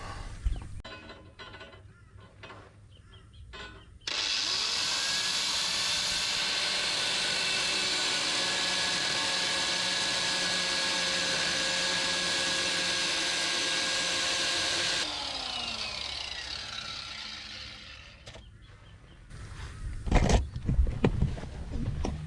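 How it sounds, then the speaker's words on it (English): An angle grinder cuts off a bolt in a cramped space during a Sprinter van water tank install. It grinds loudly and steadily for about eleven seconds, then quiet handling noises follow. "I'm going to have to whack it off with a grinder"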